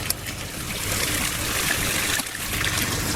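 Water drains from an aquaponic grow bed after its standpipe is pulled, a steady close rushing trickle that continues evenly with a brief dip near the end.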